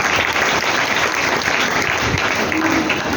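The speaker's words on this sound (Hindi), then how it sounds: "अभी ताली बजेगा।" Audience applause at a Hindi talk on Chhatrapati Shivaji Maharaj and his guru Ramdas Swami, a dense, steady burst of clapping from a full crowd, loud and unbroken for several seconds.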